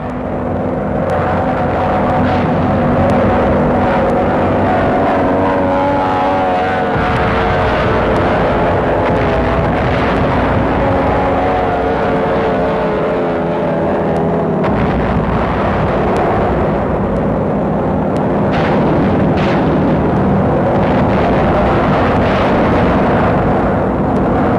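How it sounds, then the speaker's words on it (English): Bombers over Basel in a wartime newsreel: a continuous loud roar of aircraft engines with heavy rumbling blasts and crackling bursts, dense and unbroken throughout, with low booms swelling at intervals. "Bombers over Basel."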